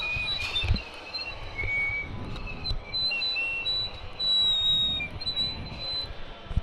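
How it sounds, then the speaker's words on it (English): A thin, high whistling tone wavers and recurs steadily over a low background hum during a college hockey game broadcast, with no one talking over it. "I don't know why it's whistling."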